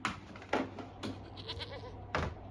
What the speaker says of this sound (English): Old mate Goats seems to be a little hot. He's having a little lunchtime call off.